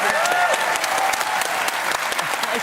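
A talk show audience in Dublin applauds steadily, a dense wash of clapping that stays even throughout, with a faint voice briefly rising above it.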